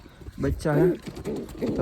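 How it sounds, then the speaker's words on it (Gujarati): A pigeon in a nest box of a breeding setup gives repeated throaty coos, close and fairly loud, with someone talking over and between the calls. "કેવું કબૂતર બોલે છે"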